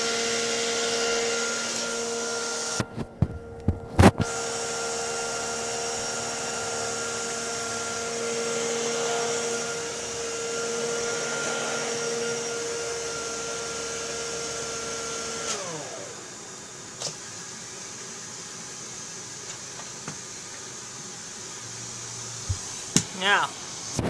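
An Orek Hypo-Allergenic Plus XL 2 vacuum cleaner runs with a steady close-up whine and hum, then winds down partway through, its tone sliding lower before a few clicks and knocks near the end.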